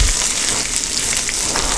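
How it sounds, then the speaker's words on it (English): Meat for a Philly cheesesteak pizza fries on a hot pan with a loud, close, continuous sizzle and crackle, heard alone with no talking. "Hear it? Hear it sizzling up?"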